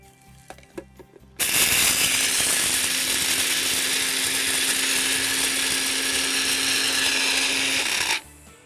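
Four dried rose hips being ground for a spice mix in an electric grinder, which starts abruptly and runs as a loud steady whir for about seven seconds before cutting off, preceded by a few small clicks.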